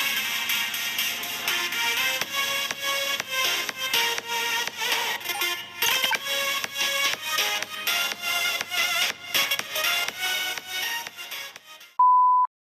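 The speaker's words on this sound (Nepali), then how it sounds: "यसको स्पिकर चाहिँ अब म तपाईलाई टेस्ट गरेर देखाउन जाँदैछु।" A Redmi A2+ phone speaker plays a test tune of bright, rhythmic synthetic tones and beeps for about twelve seconds, ending with a short steady beep after the music stops.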